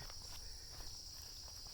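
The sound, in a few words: crickets and cicadas chirping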